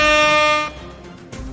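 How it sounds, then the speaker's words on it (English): Loud air horn blast held steady for about two-thirds of a second and then cut off, followed by quiet background noise and a faint second burst at the end. "Give her an air horn."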